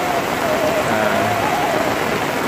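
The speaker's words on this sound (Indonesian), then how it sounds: "hujannya lagi besar" Heavy rain pours steadily over a village, a dense, continuous hiss of drops hitting surfaces at close range, with no voices.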